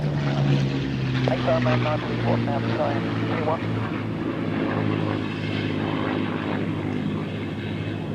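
A Supermarine Spitfire Mark 2, the eight machine gun version, at the Flying Legends airshow at Duxford, its propeller engine a steady drone heard under continuous commentary.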